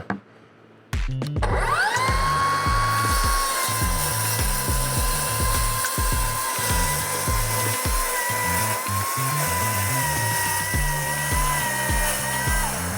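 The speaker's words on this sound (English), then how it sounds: "Skill sawing upside down on a boat." A circular saw spins up after a brief silence and keeps up a loud, steady whine while cutting upside down on a corroded navy boat, with rattling and knocking underneath.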